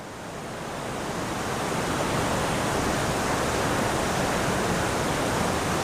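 Water pours down inside a cave along a river flowing underground, a dense roaring wash that builds over the first couple of seconds and then holds steady and loud.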